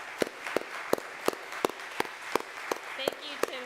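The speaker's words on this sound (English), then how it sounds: "Let's give them a round of applause." A church congregation at a Sunday service claps, each clap sharp and separate in a slow, regular rhythm at about three per second, thin and sparse like a few hands, with faint background sound between claps.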